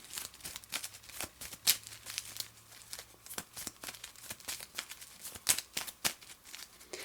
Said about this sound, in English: I take my discard pile, shuffle it up